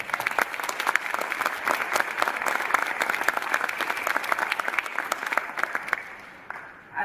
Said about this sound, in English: Please help me to welcome the panels and join me to applaud their panels.